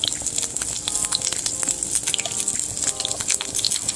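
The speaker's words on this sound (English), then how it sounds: "I'm going to pour about a cup of water in my pot." Water poured from a cup into a pot holding chicken for island-style barbecue wings, a continuous close gushing splash that holds steady and fairly loud throughout, with no talking.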